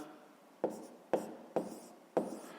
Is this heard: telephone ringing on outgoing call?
no